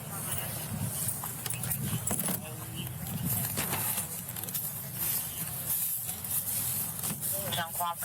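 Car keys jangle in a metallic rattle, passed over during a police traffic stop, with people talking throughout.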